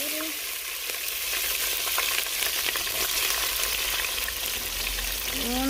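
Bell pepper and onion frying in a pan, a steady, close, dense sizzle that stays even throughout, with faint stirring scrapes.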